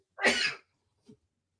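A single sharp sneeze, close and fairly loud, followed by a faint short breath or sniff.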